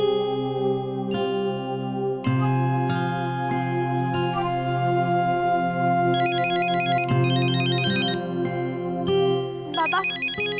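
A melodic phone ringtone plays loud and steady for an incoming call in a Marathi TV serial, its looping tune repeating with bright chiming notes, with no voices over it.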